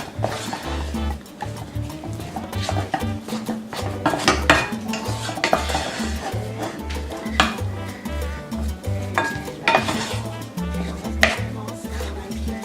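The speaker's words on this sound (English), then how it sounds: "I'm kind of smushing it down with the back side of the spoon just to make sure the consistency is good" A spoon mixes and mashes churro dough in a bowl, scraping and clinking steadily and loudly throughout, with rhythmic knocks against the bowl's sides and no talking.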